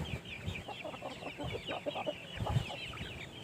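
Chickens suffering from a respiratory disease cluck and murmur continuously nearby in a farm setting, a busy overlapping chatter of soft calls at moderate volume.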